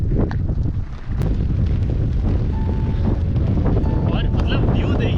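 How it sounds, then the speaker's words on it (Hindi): Strong wind roars across a hilltop at Dalai Hills in Mussoorie, a loud continuous buffeting on the microphone with flags whipping, and a voice faintly under it. "क्या ज़बरदस्त हवा चल रही है इधर"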